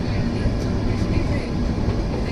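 Vistadome glass-coach train pulling into Araku railway station, a loud, steady rumble of wheels and carriage noise filling the whole stretch with no pauses.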